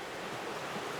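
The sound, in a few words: river water flowing below Dartmouth Dam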